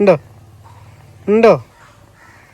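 A crow gives two harsh, separate caws about a second apart, close and loud, over a steady low hum, with a brief voice nearby.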